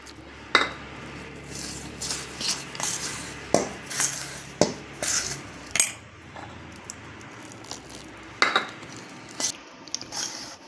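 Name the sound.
kneading dough for elai adai by hand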